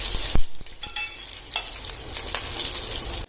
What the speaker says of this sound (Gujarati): ત્રણ ચમચી જેટલું તેલ લીધું છે એમાં થોડું આપણે જીરું એડ કરશું થોડા મીઠા લીમડાના પાન અને બે સ્લીટ કરેલા મરચા એડ કરશું